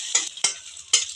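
Egg frying in oil in a pan, heard as three short, bright sizzling bursts from stirring or scraping at close range, with quieter frying between them.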